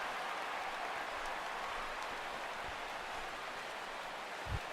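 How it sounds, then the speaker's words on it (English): A steady, broad crowd roar from a ballpark in the baseball video game MLB The Show 16, sustained applause and cheering at even loudness throughout with a brief low thump near the end. "he'll get himself a nice little ovation for the work he's turned in on the mound so far"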